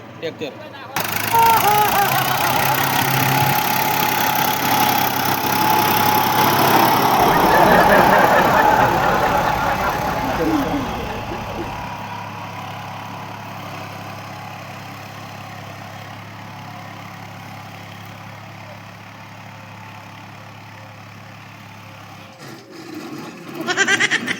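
A tractor engine runs steadily on a farm, loud at first and then settling lower, with a person talking over it throughout.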